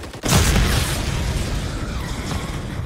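A grenade detonates in the video game Modern Warfare 3: a sudden loud, close boom with a deep low-end punch, then a long rumbling, noisy decay that lingers to the end without speech.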